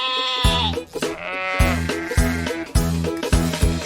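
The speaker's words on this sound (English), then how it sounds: "Sheep." A sheep bleats several times in wavering, drawn-out cries, loud and close, layered over bouncy music with a steady beat.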